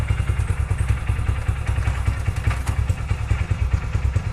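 A BS6 motorcycle engine idles close by while still warming up, a loud, even putter of rapid low thumps that holds steady the whole time.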